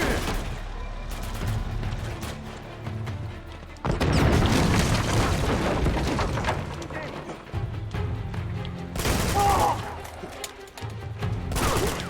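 Rocket launcher blasts in Uncharted 2: Among Thieves sound as heavy booming explosions, one big burst around the middle and another later, under ongoing commentary voices.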